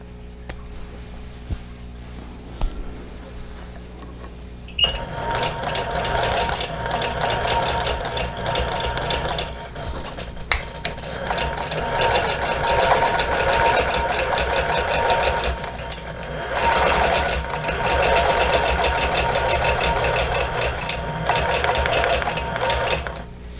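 A sewing machine quilting star and tulip place mats, its rapid needle chatter starting after a quiet lead-in and running in long close bursts with brief pauses between them.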